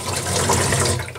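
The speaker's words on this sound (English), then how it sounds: "I'm gonna do just a quick rinse just in case there's a little bit of dirt on them" Running water rinses freshly picked dandelion flowers into a dye pot, making a steady, close splashing rush that holds for the whole moment.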